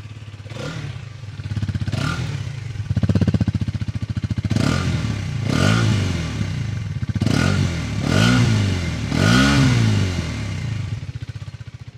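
A Hero Xtreme 250R motorcycle engine idles and is revved repeatedly, each throttle blip rising and falling in a throaty exhaust roar, heard close up with no talking.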